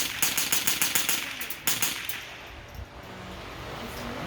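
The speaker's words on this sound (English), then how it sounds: "show you how quick someone can make a semi-automatic gun work" Rapid unsuppressed shots from a semi-automatic gun, a quick run of sharp cracks in the first two seconds followed by a single louder report. Ringing, reverberant noise fills the remainder.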